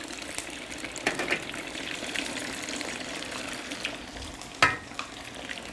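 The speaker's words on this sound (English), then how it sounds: "let's take our curd, bring it over to the hot ghee here, and let's carefully deep fry it" Continuous bubbling sizzle of curd cubes deep frying in hot ghee, with occasional sharper crackles and a brief splashy burst near the end.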